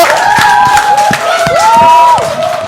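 Audience cheering and applauding at an event, loud overlapping shouts and whoops with claps, some high-pitched cries rising and falling across a few seconds.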